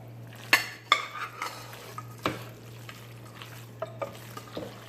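Utensil stirring chicken, shrimp and broccoli Alfredo pasta in a pan, with scattered scraping clinks and soft sloshing over a steady low hum, moderately close and with no talking.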